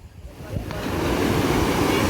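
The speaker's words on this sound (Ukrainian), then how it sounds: "І вперше тут в Саранді на міському пляжі бачу такі хвилі." Sea waves roll onto the city beach in Saranda, Albania, in the evening, building into a steady, loud wash of surf with wind noise across the microphone.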